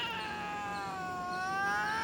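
A female house cat lets out a loud, drawn-out yowl, one sustained wavering cry rising and falling in pitch, close by and alone with no voices.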